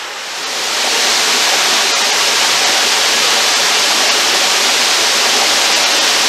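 River water rushes at Kbal Spean, the rocky riverbed carved with lingas, a loud, steady broadband roar that swells slightly over the first second and then holds evenly throughout with no voices.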